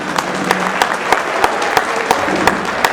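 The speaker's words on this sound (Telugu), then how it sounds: "సరే, చిన్నపిల్లలకి చప్పట్లతో స్వాగతించండి గట్టిగా" An audience claps to welcome children onto the stage at a South African Telangana association folk event, steady crowd applause with a few sharp, rhythmic louder claps standing out at regular intervals.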